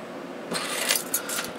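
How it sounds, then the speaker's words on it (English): A set of car keys jingles briefly up close, a few light metallic rattles after a short quiet lead-in, with no speech. "car keys."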